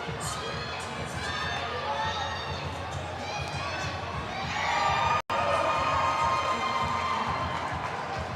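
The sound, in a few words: crowd cheering at a fitness competition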